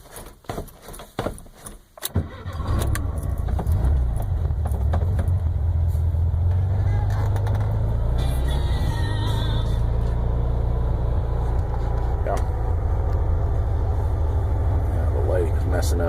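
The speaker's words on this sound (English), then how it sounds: "Let's fire this thing up." A 1974 Volkswagen Super Beetle engine cranks and catches after a couple of seconds of clunks, then settles into a loud, steady air-cooled idle that runs continuously to the end.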